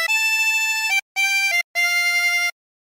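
O Christmas Tree played on a harmonica as three clear sustained notes separated by short breaths, with a bright, reedy tone and no other sound.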